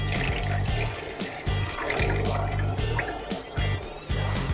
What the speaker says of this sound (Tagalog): And then, maglagay na po tayo ng tubig.